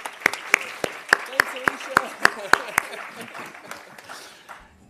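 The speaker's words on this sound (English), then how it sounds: "So another round of applause for Alicia" Applause from an audience at a conference opening, with about ten sharp, evenly spaced claps standing out over the crowd noise before it fades; a brief word of thanks is spoken during it.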